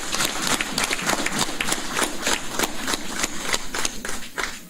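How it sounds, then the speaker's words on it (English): Steady audience applause at a finance and investment forum on affordable housing, with dense, fairly close clapping that holds at an even level for several seconds. "he deserves a little bit of a round of applause for that"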